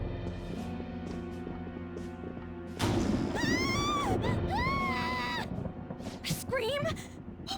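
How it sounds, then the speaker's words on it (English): Scream in Persona 5 Royal, a sudden loud crash followed by shrill, wavering cries that rise and fall for a few seconds, then a second burst of high wailing near the end. "Scream? What was that?"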